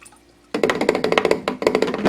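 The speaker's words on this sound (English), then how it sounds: "I have extra in my watering can, so I'm just going to pour it back" Water from a watering can is poured into a hydroponic container of lettuce plants, with splashing and gurgling that starts suddenly after near-silence and continues in uneven bursts.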